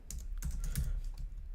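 Quick clattering keystrokes on a computer keyboard, fairly faint and close, in a short irregular burst with no talking.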